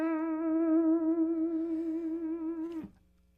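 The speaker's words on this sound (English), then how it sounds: "what I'd call a nervous vibrato is often if they're bending it up and not returning it to pitch." An electric guitar holds one sustained note with a fast, narrow nervous vibrato that stays bent sharp rather than returning to pitch, then drops abruptly and cuts off; a clean, close solo tone with no talking.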